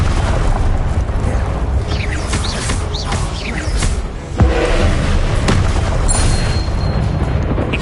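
A Confringo blasting curse in Hogwarts Legacy goes off as a deep booming explosion in a constant loud rumbling battle din, with creaking mechanical textures and a sharp thud partway through.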